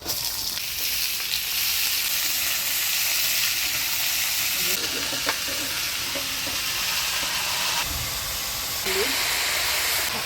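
Nigella seeds and chopped onion hit hot oil for a small-fish vegetable chorchori. A loud, steady, close sizzle and hiss carries on throughout, with occasional stirring scrapes.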